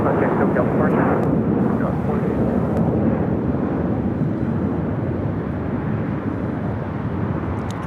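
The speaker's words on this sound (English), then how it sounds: "We'll head here to the south side for a takeoff on 25 right and join a lot of heavies." A heavy jet taking off from runway 25 right at LAX, a loud, sustained broadband engine roar that holds steady throughout and fades only slightly near the end.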